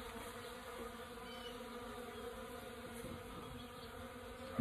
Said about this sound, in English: And I open this up and you can see a bunch of bees.